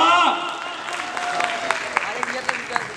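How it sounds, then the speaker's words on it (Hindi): Scattered applause from an audience at a fashion show introduction event, a few sharp claps standing out over a background of talking and crowd murmur. "तालियां तो बजाओ बाबा।"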